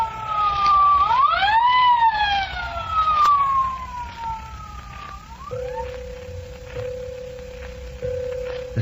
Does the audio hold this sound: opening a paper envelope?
no